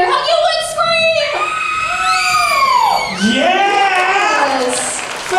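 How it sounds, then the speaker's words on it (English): A theme-park audience at a Universal Studios horror show screams together in a loud, sustained burst of high, sliding shrieks and yells, with a brief dip near the middle before the screaming surges again. "Fantastic horror movie scream!"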